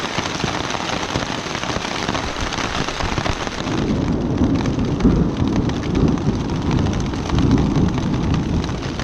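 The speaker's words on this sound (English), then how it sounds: "A little bit of thunder, lightning." Rain falls steadily on a wet stretch of the Appalachian Trail while low thunder rumbles build and swell in the second half, loud and close, with no one talking.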